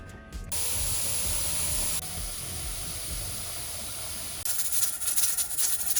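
A pressure canner loaded with green beans hisses a steady, close jet of steam, dipping slightly in level partway through before sputtering brighter near the end.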